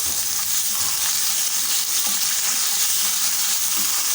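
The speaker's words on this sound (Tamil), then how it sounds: "மிளகா எல்லாமே எண்ணெயில் அப்படியே வருபடட்டும் எல்லாமே தாளித்து ரெடி ஆகிடுது" Ginger and chillies tempering in hot oil, a steady loud sizzle and crackle of frying spices with occasional stirring scrapes, close up and without talk.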